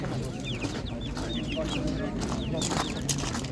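Chickens at an outdoor animal market in Nadvirna cluck and call repeatedly in short chirps over a steady background murmur of people talking.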